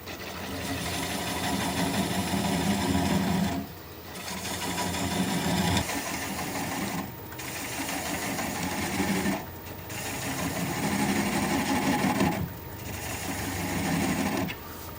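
A swept-back bowl gouge cuts a large wooden bowl spinning on a lathe, a dense continuous scraping roar close by, broken by brief pauses as the tool lifts off, with faint talk underneath.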